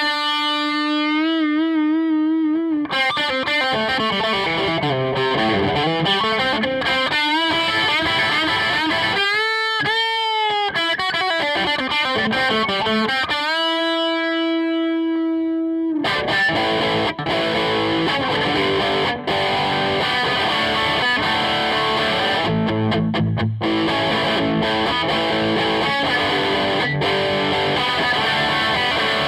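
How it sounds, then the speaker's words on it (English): A Gibson Les Paul electric guitar plays through heavy distortion, opening with sustained bent notes and held tones, then breaking into dense, driving chords and riffs that fill the passage loudly with no voices. "that thick and beautiful sound you heard just now was a Gibson Les Paul, an iconic electric guitar"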